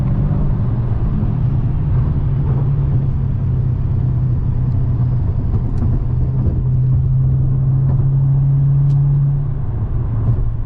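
A previous-generation widebody Dodge Challenger rumbling past at close range, a continuous low engine drone with steady road noise and no talk.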